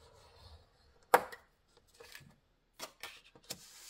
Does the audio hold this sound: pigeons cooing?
no